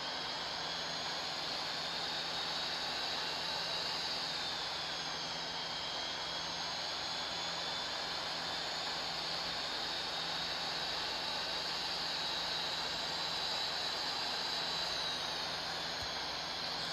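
Boeing 737 MAX jet engines of an Air India Express airliner at takeoff in a flight simulator game: a steady, loud broadband roar with a faint high whine that holds unchanged throughout.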